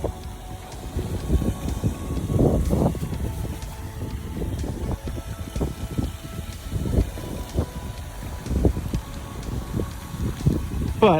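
Outdoor wind blows steadily and gusts against the microphone, making a continuous low rumbling roar with uneven surges throughout.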